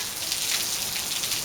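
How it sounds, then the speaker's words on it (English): Rain falls on a back patio as a steady, even hiss of drops. It stays close and moderately loud throughout, with nobody talking. "let you enjoy the sounds and sights of rain"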